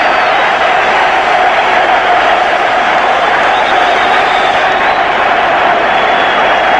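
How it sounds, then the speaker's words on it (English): The Liverpool crowd roars steadily after a Tommy Smith header goal in the 1977 European Cup final, a loud, dense, continuous wall of cheering and applause from a packed stadium. "Tommy Smith sends the Liverpool crowd into total delight."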